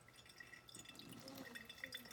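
Liquid trickles slowly through a coffee filter into a sterile mason jar, a faint, steady drip and pour that stays quiet throughout.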